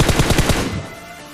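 Rapid automatic gunfire in the BGMI battle royale game as an enemy is killed, a loud, close burst of about five quick shots followed by a fading echo.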